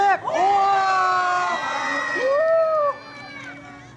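At a children's watermelon-splitting game at a summer lantern festival in Aira, Kagoshima, a crowd of adults and children shouts guidance and cheers loudly, voices rising and overlapping, then dropping off sharply near the end.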